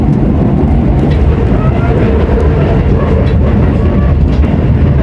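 Train carriages rock and clatter over railway switch points on a Keisei line transfer toward Haneda Airport, a steady loud rumble of wheels on rail with continuous low-frequency roar and faint background announcements.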